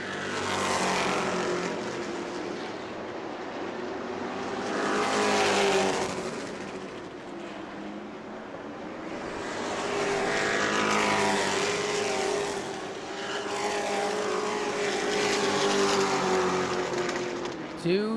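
Race trucks roar around New Smyrna's short oval track, engine noise swelling and fading in repeated passes as they circle, with a race commentator talking over the sound.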